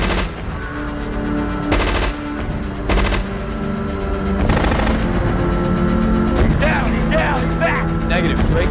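Machine gun bursts crackle in sharp, loud volleys during an action movie scene, several separate rapid-fire salvos over a dense background score and rumble, with voices speaking amid the shooting.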